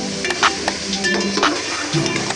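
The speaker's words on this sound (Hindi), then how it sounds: "मसाला ऑयल छोड़ने लगे तो 1 पाव कटे हुए आलू के क्यूब्स शामिल कर दें। मजीद 2 मिनट भुनाई करें।" Cubed potatoes sizzle in a pan with oil-released spice masala while being stirred, a steady frying hiss with occasional scraping and clinks of the utensil, close and without talk.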